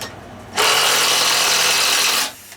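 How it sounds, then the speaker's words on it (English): An impact wrench whirs loudly and steadily for nearly two seconds loosening a bolt on a treadmill rear roller, starting and stopping abruptly, with no talking. "my impact gun really doesn't have that much strength to it"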